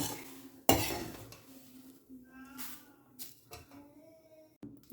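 Fried poha and peanuts being dished out, with a sharp metal clank of a utensil on a pan followed by softer scraping, stirring and faint clinks, close and fairly quiet, ending in another clatter.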